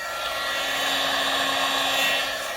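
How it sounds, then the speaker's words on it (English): A heat tool blows hot air to melt craft ink, with a constant whooshing hiss and faint motor whine, close and loud throughout. "now I'm going to grab my heat tool and we will get this to melt"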